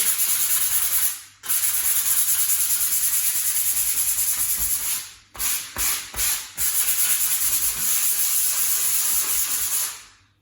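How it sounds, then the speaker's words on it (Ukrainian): Steady, rasping strokes of 100-grit sandpaper scrub across a repaired plasterboard wall in long passes, broken by a few brief pauses and quick short rubs. "Беремо соточку наждачку"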